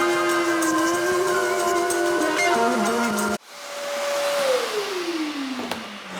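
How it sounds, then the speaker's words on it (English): A vacuum cleaner runs loudly with a steady whine while vacuuming dog hair from a Mini Cooper car floor mat, then shuts off abruptly and its motor winds down with a falling pitch. "we're going to vacuum all of the dog hair and other stuff that's on here"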